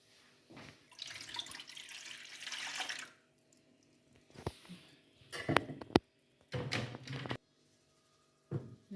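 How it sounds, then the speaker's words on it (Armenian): Water pours from a cup into a pan in a kitchen, with a long splashing stream first and then several shorter pours separated by quiet gaps and light clinks. "հետո նույն բաժակով լցնում եմ ջուր"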